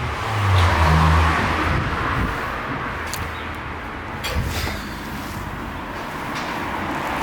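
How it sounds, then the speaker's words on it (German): Cars roll past on a nearby road, a loud broad whooshing rush that swells and fades as each vehicle goes by, over a constant traffic hum with no voices. "Es fahren hier so viele Autos vorbei."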